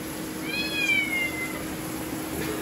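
A single drawn-out cat meow, fairly close and clear, rising then falling over steady background hiss.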